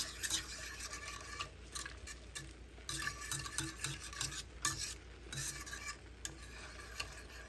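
A metal utensil scrapes and stirs softening onions around an anodized aluminum pan, lifting pan juices while preparing Marry Me chicken; steady, close scraping and rubbing runs continuously over a low sizzle.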